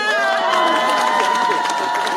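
A lively outdoor crowd cheers and shouts in a churchyard celebration for a newly ordained priest, a dense, loud, continuous roar of mixed voices throughout.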